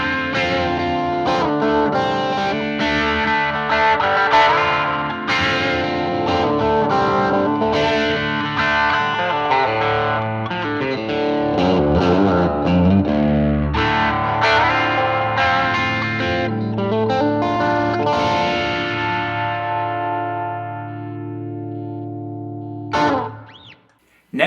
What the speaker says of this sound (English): I first have an MXR Phase 95, which is the perfect phaser for getting classic country sounds